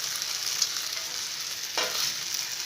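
Tadka sizzles steadily in a pan with roasted coriander spice and a fried egg, a close, continuous frying hiss broken by a brief scrape of stirring.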